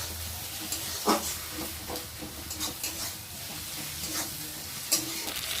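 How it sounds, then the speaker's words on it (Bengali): A paste of garlic, ginger and cumin with salt and turmeric fries in a pan with a steady close sizzle and hiss, with occasional stirring scrapes. "মশলাটা ভালো করে কষিয়ে নেব"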